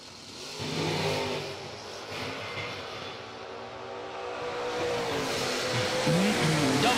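Bracket drag racing cars idling and revving in the start lanes, a steady engine drone that swells and builds toward the end, heard from a distance with no clear talk.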